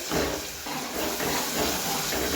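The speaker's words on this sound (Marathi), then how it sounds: "आता आपल्याला जे वाटण केलेलं आहे ते टाकून घेऊया आपण तेलात" Ground masala paste for chicken curry drops into hot oil and gives a loud, continuous sizzling hiss that holds steady for a couple of seconds.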